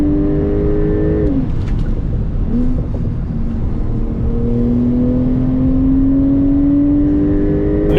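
A Porsche 992 Turbo S revving and pulling hard on the road, a loud steady engine roar that dips briefly then climbs in pitch as it accelerates, with no voices.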